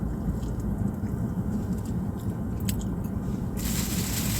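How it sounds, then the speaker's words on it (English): A pepper served with Turkish food is bitten and chewed right at the mouth, giving loud, close, wet crunching that repeats steadily with no talk. "Let me try this pepper."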